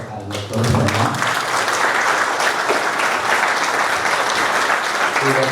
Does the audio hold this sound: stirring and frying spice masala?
no